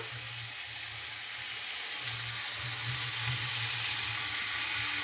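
Mixed vegetables hit a hot kadai for semolina upma, giving a steady, close frying sizzle that holds evenly throughout over a faint low hum, with no talking.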